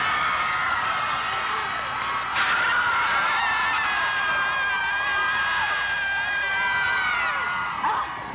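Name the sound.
students screaming out of open windows during finals week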